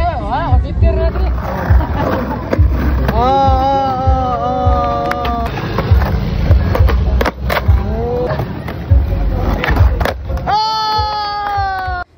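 Kids skateboarding on a street in Toledo City, Cebu, wheels rolling and rumbling with clacks of boards, under loud children's voices and shouts nearby.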